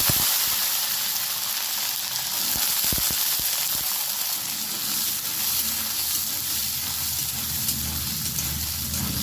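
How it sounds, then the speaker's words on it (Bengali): Green peas fry in hot oil with black cumin and green chilli, making a continuous close sizzle with brief stirring clicks in the middle. "মটরশুঁটিগুলো একটু অল্প ভেজে নিলাম"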